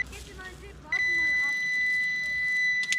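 A metal detector gives a sustained high electronic tone signalling iron in a field hunt, held steady for about two seconds after someone speaks, with a short burst of clicks at the end.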